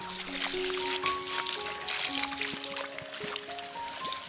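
Spring water runs steadily from a pipe on a mountainside, a close continuous trickle and splash, with bird calls sounding over it.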